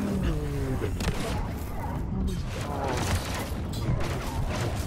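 Explosions and blaster fire in a crowded 4v4 shooter form a continuous chaotic din of booms and shots with no letup.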